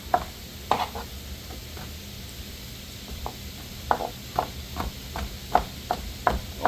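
A knife cuts vegetables into big chunks on the bias against a board, each cut landing as a sharp, separate knock at an uneven, unhurried pace over a soft kitchen hum.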